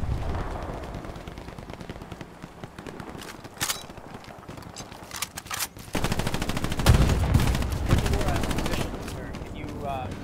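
Rapid bursts of gunfire and explosions from the World War II shooter game Hell Let Loose, loud and dense, with a heavier volley after the midpoint, while players talk over the combat.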